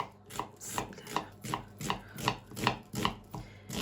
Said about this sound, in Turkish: Kuru soğanlarımı yemeklik doğrayarak başlıyorum